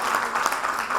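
An audience at a literature festival session claps together to welcome speakers to the stage, a brief, steady wash of dense applause from a crowd.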